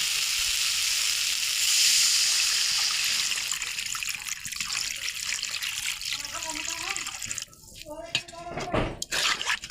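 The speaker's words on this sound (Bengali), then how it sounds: "একটু বেশি পরিমাণে পানি দেওয়া হয়ে গেছে।" Water pours into a pot of curry with ash gourd vadi, a steady splashing stream that thins out, followed by quieter clatter and handling sounds, with a voice talking faintly nearby.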